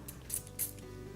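Two short, hissing spritzes from a spray bottle holding water for homemade organic cleaner, close and fairly quiet, over a low background hum.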